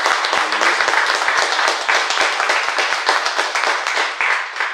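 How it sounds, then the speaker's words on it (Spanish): Congregation clapping inside a church during a Sunday Eucharist celebration, a dense, steady round of applause from many hands lasting throughout, fairly close and loud, with no speech over it. "Denle un aplauso de felicitación."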